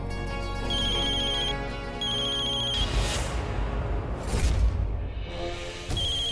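A mobile phone ringtone plays in a home, a looping electronic melody that repeats several times, fairly clear and steady, with brief pauses between phrases and no speech over it.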